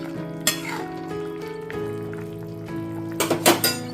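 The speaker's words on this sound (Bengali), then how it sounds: "ঢাকা খুলে দিচ্ছি একবার নেড়ে নিচ্ছি" A spoon stirs vegetable khichdi of dal and dalia in a cooking pot, giving a few soft scrapes and clinks, with a louder cluster near the end, over a steady low tonal hum.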